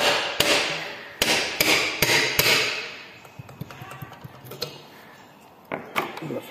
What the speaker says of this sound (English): Probably need to just tap it with a hammer or something.